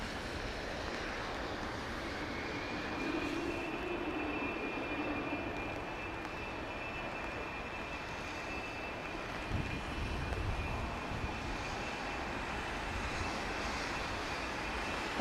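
An aircraft departs London Heathrow during a wet storm, a distant, steady engine rumble mixed with wind and rain noise, fairly faint and continuous, with no talk.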